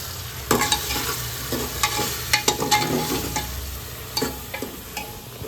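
Kantola curry sizzles in a pan as chili powder is added, with a spoon scraping and clinking through a few quick stirs over the steady frying hiss, close up and with no speech.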